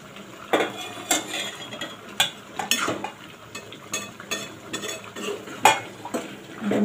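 A spoon scrapes and clinks against a pan while stirring cooked elephant foot yam (suran) vegetable, with irregular close metallic taps and scrapes over a faint background sizzle.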